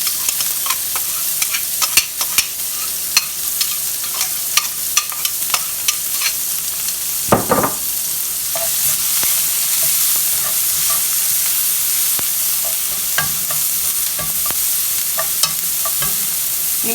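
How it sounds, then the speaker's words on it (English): Diced onion hits a teaspoon of hot olive oil in a pan, crackling and sizzling steadily with sharp pops and spatula scrapes, close and loud with no talking. "I'm going to go in with just a tiny bit more olive oil, about a teaspoon. And I'm going to hit it with our diced onion."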